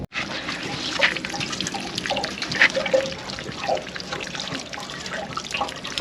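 Water flushing out of a caravan's hot water system, a continuous close splashing rush with trickling and dripping over it, nearly free of voices.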